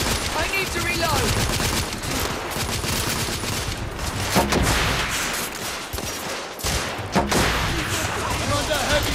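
Heavy, sustained gunfire in The Order: 1886 pounds away in dense overlapping bursts of shots, loud and near, with a few sharper individual cracks and voices talking amid the firefight.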